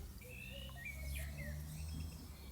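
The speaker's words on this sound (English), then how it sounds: "Can you hear the birds?" Birds sing in trees on the Isle of Wight, with thin whistled phrases and chirps at moderate distance over a low steady rumble and no speech.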